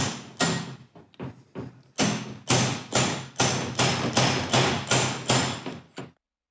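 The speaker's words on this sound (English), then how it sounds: "drop the inner bearing in there and tap it down into place" A close series of about fourteen sharp metallic taps driving the inner bearing into place during a rebuild of a 1967 Jaguar E-Type's independent rear suspension. The blows come irregularly at first, then settle into a steady rhythm before stopping.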